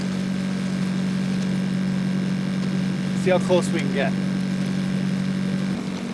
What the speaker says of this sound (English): this boat is very quiet compared to a lot of other boats